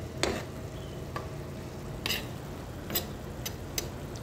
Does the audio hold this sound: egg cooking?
yes